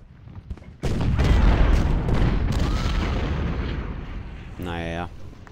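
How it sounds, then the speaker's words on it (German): A cannon volley of Civil War artillery in Ultimate General: Civil War, a heavy booming roar that swells suddenly and rolls on for several seconds, with a voice speaking over it near the end. "Warte mal eine Kanonensalve ab, wenn Field auch soweit ist."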